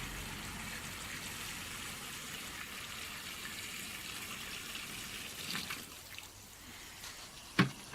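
Hot tap water gushes steadily into a 6-foot round Chad Valley paddling pool, a continuous broadband rush that holds at a constant moderate level, with a brief splash or clunk near the end.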